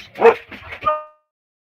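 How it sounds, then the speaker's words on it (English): Several dogs let out a short burst of loud, close barks, three or four sharp yaps in quick succession, and then everything falls silent. "Apparently something moved and they were barking at it"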